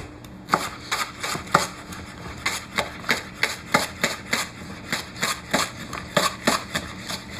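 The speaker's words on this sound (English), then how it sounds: "Then the leek can get diced." Knife dicing a leek on a cutting board, a rapid series of crisp, close chopping knocks in a fairly regular rhythm, with brief pauses between bursts.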